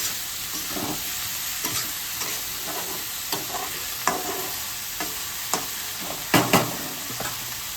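A spoon stirs a sizzling curry in a pan with turmeric just added: steady frying hiss with repeated scraping strokes and sharper clatters near the end, close and clear with no talking.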